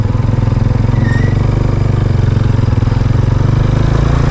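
A motorcycle engine runs steadily close by, a loud, even rhythmic putter that holds without pause throughout.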